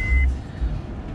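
Low fuel warning chime in a 2012 Honda Pilot, a single short electronic tone inside the car over a low engine rumble.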